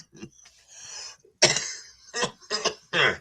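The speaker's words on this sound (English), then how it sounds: "let me finish coughing first" A person coughs several times in short, harsh bursts, close by, with brief pauses between the coughs.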